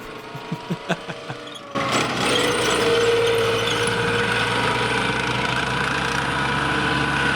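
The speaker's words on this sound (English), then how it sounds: "a Chieftain that could actually drive on its own power." A Chieftain tank engine starts after a few short knocks, then runs as a loud, steady, rumbling drone close by.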